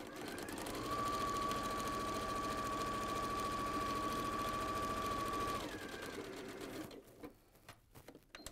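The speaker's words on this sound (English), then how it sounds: "So now you're doing your right-hand seam." Sewing machine stitching a right-hand seam of a square of fabric, a fast, steady mechanical whirr with a thin high whine that runs for several seconds, then stops abruptly, leaving a few faint clicks.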